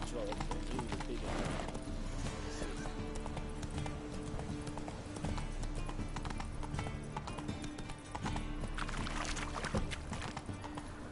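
Hooves of the horse Roach clip-clopping steadily in The Witcher 3, a continuous rhythmic trot blended with a dense game soundscape and music.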